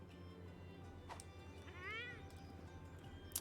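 A cat meows once in a video game, a clear rising-and-falling call standing out over a steady game music bed with a few soft clicks.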